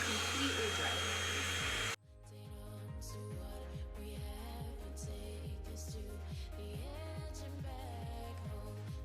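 A hair dryer runs steadily while hair is being dried during a shampoo and styling routine, a loud continuous whoosh after a short burst at the start, with a music track playing underneath.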